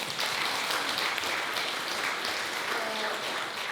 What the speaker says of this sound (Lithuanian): Iš tikrųjų, plojimai ne tik Rasai, bet ir tau, Laurynai.